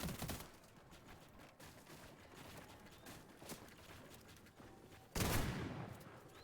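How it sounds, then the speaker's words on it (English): Gunfire trading in a duos battle-royale match: scattered distant shots crackle under a steady background wash, then a loud, close burst of fire erupts near the end. "Trading a couple shots."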